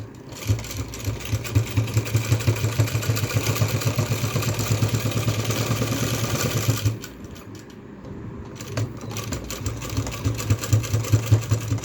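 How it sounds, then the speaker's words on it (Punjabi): A sewing machine runs fast stitching the final seam of a cotton V-neck garment, a loud rapid clatter that stops briefly near the middle before starting again. "ਇਸ ਤਰ੍ਹਾਂ ਤੁਸੀਂ ਕੱਪੜੇ ਨੂੰ ਸੈੱਟ ਕਰਕੇ ਫਾਈਨਲ ਸਲਾਈ ਲਗਾ ਦੇਣੀ"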